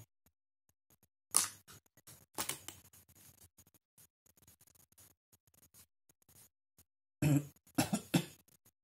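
A couple of short, muffled coughs close by, separated by soft scratching and handling noises in an otherwise quiet space.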